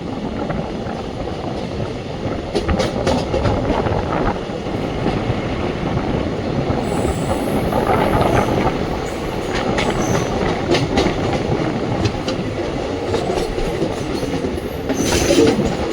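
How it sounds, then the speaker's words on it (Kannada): A Bengaluru–Hassan DEMU express train arrives at a station on the line towards Chikkabanavara Junction, a steady rolling rumble with wheel and rail noise throughout and brief squeals near the end. "KSR Bengaluru Haasan DEMU express ಬಂದೈತ್ರಿ"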